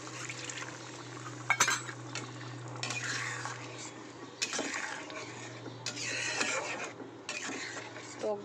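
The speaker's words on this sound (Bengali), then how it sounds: "তাহলে একটু জল দিয়ে দিই বাটিটা ধুয়ে।" Water being swished around a bowl and poured into a curry pan, several bursts of splashing and pouring with a clink of utensils, close, over a steady low hum and occasional voice.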